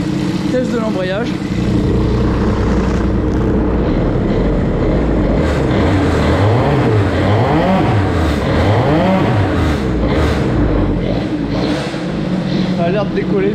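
Revving from a KTM 65SX dirt bike during a clutch test, with the engine loud and near and the pitch climbing and falling in several quick blips over a steady running drone.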